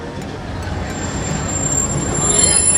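Walt Disney World Railroad train rolling on its rails at the Magic Kingdom, a steady rumble of wheels with faint squeals, building slightly louder and heard from aboard the ride.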